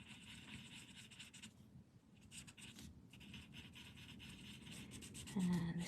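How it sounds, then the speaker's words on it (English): An eraser rubs out a pencil line on a paper drawing tile, giving a steady, close, scratchy rasp that keeps on with short pauses, and a brief spoken remark comes near the end. "I'm just going to rub out that line there"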